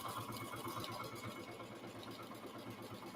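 Sewing machine running continuously at close range, stitching the two sides and angled bottom edge of a fabric cross-body bag, a steady mechanical whir with rapid needle rhythm and no talk.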